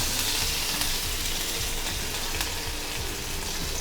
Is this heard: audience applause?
no